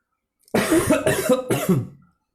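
Three harsh coughs in quick succession, close and fairly loud, then silence.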